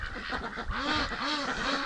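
A duck at a freshly filled water tub gives a series of loud, close quacks, three or four harsh nasal calls repeating in a steady rhythm with light background noise.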